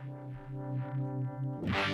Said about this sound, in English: univibe pedal, but the plus is it has a fuzz pedal built into it also